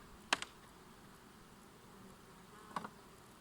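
Honey bees buzz faintly at an opened hive during winter nest preparation. Under a low, steady hum come two brief, sharper bursts of buzzing close by, with no talk.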